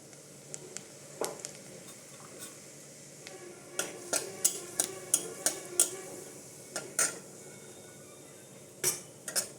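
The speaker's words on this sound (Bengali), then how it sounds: "এরপরে এই পটল ভাজার তেলটার মধ্যে জিরা ফোড়ন দিয়ে দেবো" White cumin seeds dropped into hot oil left over from frying pointed gourd crackle with scattered sharp pops and ticks, clustering into a rapid burst midway, with faint metal utensil clinks.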